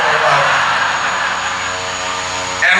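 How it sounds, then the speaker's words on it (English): An airplane engine drones loudly and steadily close by at an outdoor political rally in Knoxville, Tennessee, a continuous roar with a slight rise in pitch near the end. "someone's got to turn that plane off so I can talk a little about it"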